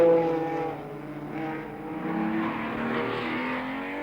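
Le Mans endurance race cars, including a Ford GT, roar past on the circuit, engines droning and rising in pitch as they go by at a moderate distance.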